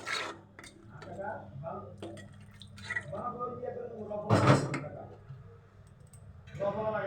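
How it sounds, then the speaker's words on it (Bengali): A metal lid clatters onto a cooking pan of snakehead fish and fried potatoes in one brief clank, while someone talks before and after it. "এখন আমি ঢেকে দিলাম 5 মিনিটের জন্য।"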